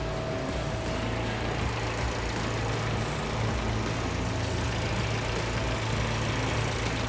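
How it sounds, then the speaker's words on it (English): Honda Civic FL5/FK8 engine running steadily after a dual oil cooler install, a continuous low mechanical drone heard close up without talk. "We have the engine running."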